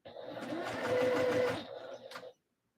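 Sewing machine stitching fabric for a skort, a close, steady mechanical whir with rapid needle chatter running for over two seconds before stopping abruptly into silence.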